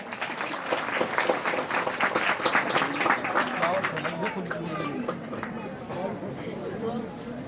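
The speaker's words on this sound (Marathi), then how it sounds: "आता तुम्ही तुमच्यासाठी एकदा टाळी वाजवा." Audience applause after a devotional bhajan dance at a Shiv Mahapuran katha gathering, a dense sustained patter of many hands clapping, fairly loud at first and tapering slightly toward the end.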